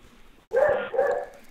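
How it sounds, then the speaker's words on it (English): Dogs barking indoors, two loud close barks in quick succession with a short break between them, following a quiet stretch. "If you hear my dogs barking,"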